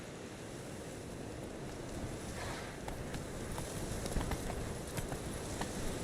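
Roach the horse galloping in The Witcher 3, a dense rumble of hoofbeats blended with wind-like rushing noise, steady and fairly faint throughout.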